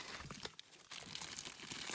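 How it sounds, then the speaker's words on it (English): A plastic bag from action figure packaging crinkles softly at close range in a series of quick rustles with a brief pause partway through, and no voices are heard. "Now, I believe there should be a plastic bag in here."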